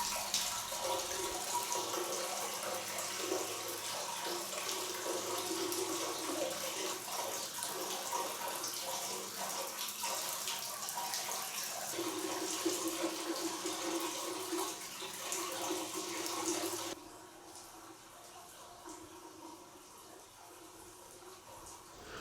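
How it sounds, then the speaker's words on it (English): Malvern spring water pours steadily from an ornately carved spout at St Ann's Well on the Malvern Hills, a continuous close splashing rush that drops suddenly quieter near the end. "Malvern water flows freely from an elaborately carved water spout."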